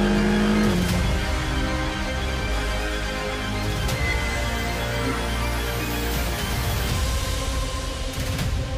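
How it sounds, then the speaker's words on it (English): A race car engine revs and accelerates in a continuous loud roar, with rising whine and possible tire squeal, heard alone without speech. "This race car."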